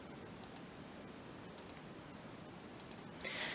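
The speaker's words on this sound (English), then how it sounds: "we will click Close" Computer mouse clicks while working in engineering software, several faint sharp clicks spaced irregularly over a quiet background.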